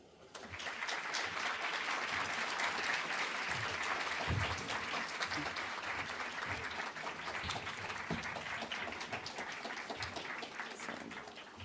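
An audience at a lecture event applauds to welcome Iranian President Hassan Rouhani, steady dense clapping from a large room that swells quickly, holds for about ten seconds and then begins to fade.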